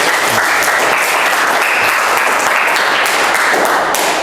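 A class of students applauds together in a classroom, a loud, steady burst of clapping that fills the room for several seconds without pause.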